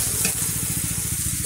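Cumin seeds sizzle and crackle in hot oil in a pan as they are tempered for a Bengali dish of elephant foot yam and snakehead fish, a loud, close, continuous fizz.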